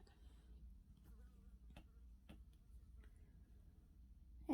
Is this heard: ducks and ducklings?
no